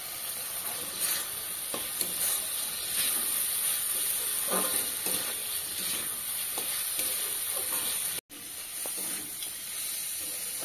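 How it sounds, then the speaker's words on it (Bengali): Fried potatoes sautéed with spice paste in a hot pan, steady loud sizzling and hiss with scraping stirring strokes throughout, heard close up with a brief cut near the end. "আলুটা মশলাগুলোর সঙ্গে একটু কষিয়ে নিলাম।"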